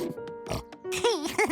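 A cartoon pig in Curious George gives a few short nasal oinks and snorts close up, with the later grunts rising and wavering in pitch; the call sounds like a voice performing a pig.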